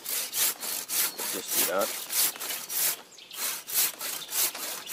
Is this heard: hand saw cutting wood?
yes